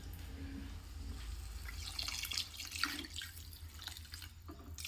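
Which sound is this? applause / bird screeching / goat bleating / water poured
water poured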